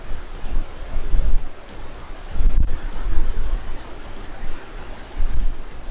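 Gusty wind blows outdoors at a hillside resort near a waterfall and cold spring with camping grounds, a grill area and a pool, rumbling and buffeting the microphone in uneven surges with no clear talk.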